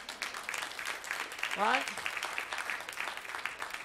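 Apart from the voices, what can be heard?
audience clapping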